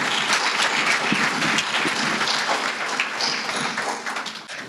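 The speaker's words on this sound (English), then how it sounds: "So let's have another round of applause for them." Sustained audience applause at a Black history program, loud and dense with many hands clapping together, holding steady throughout before thinning slightly at the very end.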